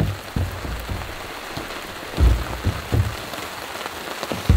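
Heavy rain drums steadily on a winter campsite, close and constant, with a few louder gusts of drops spattering the surface and no voices.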